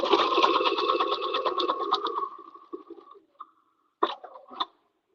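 A home sewing machine stitching a garment in a rapid buzzing run of needle strokes for about two seconds, then slowing into a few short stuttering bursts and stopping, heard close up with no voices.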